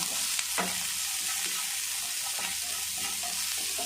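Onions with salt and a handful of peas frying and being stirred in a pan, a steady loud sizzle with scraping strokes of the spoon repeating throughout.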